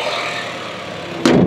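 A 2025 Honda Amaze's bonnet is closed with a single loud, sharp thud near the end, following a steady low engine idle hum.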